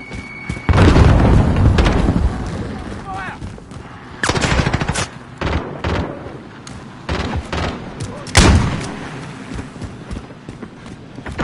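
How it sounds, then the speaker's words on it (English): Call of Duty Modern Warfare gameplay: a grenade explosion booms amid heavy rapid gunfire and bursts of shots, loud and close, with game voice callouts heard in the mix. "Throwing grenade!"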